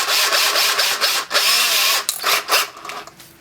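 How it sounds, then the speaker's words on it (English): A power drill whirs loudly in short bursts, biting into a hitch adapter for a model trailer, pausing briefly between runs before winding down near the end. "We're going to drill it in."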